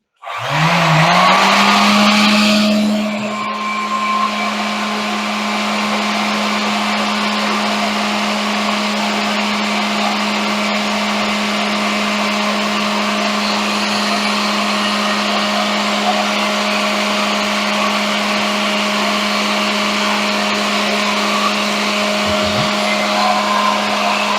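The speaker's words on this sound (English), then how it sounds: "Yes, my Ryobi sander is very well used." A Ryobi electric sander runs steadily with a droning motor hum and a gritty whir. It is louder at the start, then holds constant for a long stretch.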